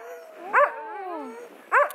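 Sled dogs in a Lapland forest near Inari, Finland, with two sharp barks standing out over a steady chorus of high, wavering howls and whines.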